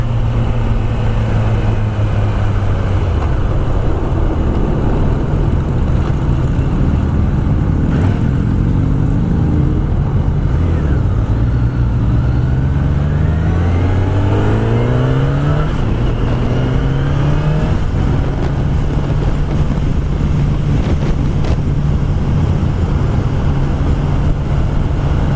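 Kawasaki ZX10R 1000cc sport motorcycle accelerating hard through the gears on a ride, engine pitch climbing repeatedly with brief dips at each upshift, loud and close over constant wind rush.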